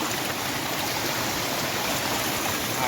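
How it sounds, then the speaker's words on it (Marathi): A mountain stream in the Konkan monsoon rushes down into a river, a steady, loud, broadband wash of flowing water that continues without pause. "हा वरून डोंगरातून वाहत येणारा पाण्याचा झरा"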